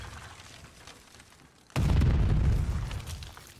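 Grenade blast in a Call of Duty match during a Major III grand final, a sudden loud low boom at mid-clip that rumbles and decays over the following seconds.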